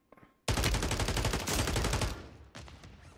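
Akimbo WSP Stinger SMGs fire in Warzone 3: one loud, rapid burst of automatic fire lasting about one and a half seconds, then a short second burst, close and harsh, with no voices over it.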